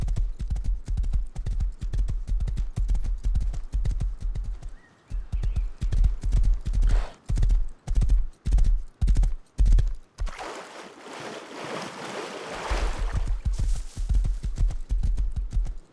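In the survival game Rust, a horse gallops with loud, close, rhythmic hoofbeats. The hooves briefly stop for a stretch of breathy rushing noise, then the galloping resumes.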